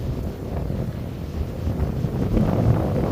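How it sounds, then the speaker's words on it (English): Strong wind roars through a snowstorm near a pond, a continuous rough buffeting that batters the microphone, loud and close throughout, with no other sounds standing out. "I'm walking towards the pond here, and the wind's just insane"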